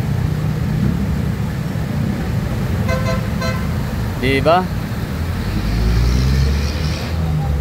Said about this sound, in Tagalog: Yun, grabing traffic yan.